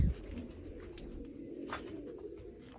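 Large pigeons coo softly in a rural spot on a rainy day, a faint, low murmur beneath background noise with a brief thump at the start.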